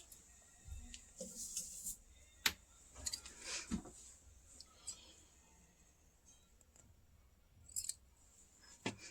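Scissors snipping knitting yarn on a V-neck gents sweater, a few faint, sharp clicks and snips spaced apart in a quiet room.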